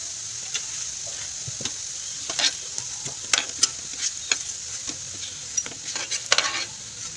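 Laopolla pitha fries in a pan with a soft, constant sizzle, broken by frequent sharp scrapes and clinks of a utensil turning the pieces, close and without talk.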